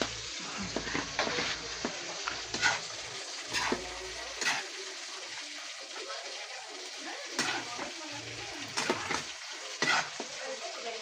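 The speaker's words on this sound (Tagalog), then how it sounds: "Yung ating baliktarin natin yung ating fried chicken guys." Fried chicken sizzles in a pan while being flipped, with continuous crackling frying under irregular scraping and clattering bursts from the turning.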